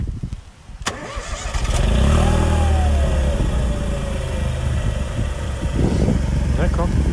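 A Brabus car engine cranks and catches with a rising roar, then settles into a steady close idle with a slight rev. Someone speaks French over it.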